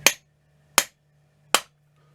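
Three sharp taps from a wooden hammer handle on an upturned Kaiser clock movement, evenly spaced about three-quarters of a second apart, each a crisp knock on metal with a faint low hum underneath.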